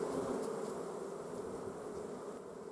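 Dense, continuous buzzing of many honeybees around hives on an African farm, droning steadily and close with no voices.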